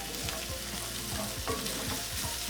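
Chicken sizzles in a pan as garlic, paprika, chili powder, cumin, coriander and biryani masala are stirred through it, the spoon scraping in quick repeated strokes over a steady frying hiss.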